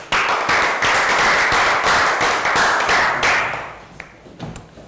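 A class of schoolchildren gives a round of applause in a classroom: dense, steady clapping from many hands that fills most of the moment, then thins out into a few scattered claps at the end.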